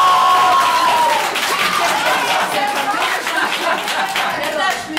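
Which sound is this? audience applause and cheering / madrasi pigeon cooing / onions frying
audience applause and cheering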